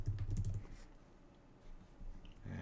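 Quick bursts of close keystrokes clatter on a computer keyboard while typing into a code editor search, a rapid flurry at the start, then a pause and a few more taps.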